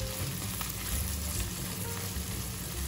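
Onion sautéing in a hot pan produces a loud, dense, continuous frying sizzle that holds steady for the whole stretch, with no voices over it.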